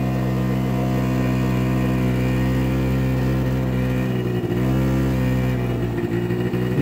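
A TGB Bullet scooter engine that cuts out at high revs and load drones at steady throttle, then dips and falters before the throttle is opened again and the pitch climbs back, close and loud with no talking.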